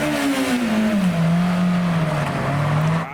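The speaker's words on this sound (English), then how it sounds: "The police have said you've got to do a burnout" A Honda S2000 at a car meet revs hard in a burnout attempt, its loud, close engine note sweeping down and then holding a steady high-rpm drone before cutting off.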